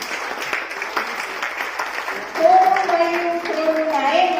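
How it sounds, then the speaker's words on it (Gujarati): An audience applauds to welcome someone speaker onto the stage at a Gujarati literary talk on story writing. The clapping rises and fills the room, with a melodic sung or spoken line over it toward the end. "આપણે સૌ ઓળના ઉમળકા અને તાળીઓના ગડગડાટથી તેમને વધાવીશું"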